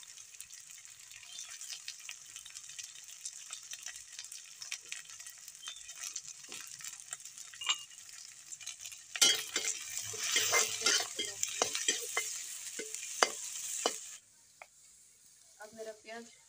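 Crushed garlic dropped into hot oil with cumin and green chillies, a continuous hiss that swells louder partway through, with clinks and scrapes of stirring in the pan nearby.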